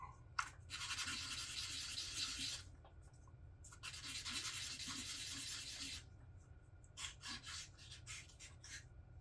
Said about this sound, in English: You don't want to use 80 grit sandpaper on this. It will not smooth it out.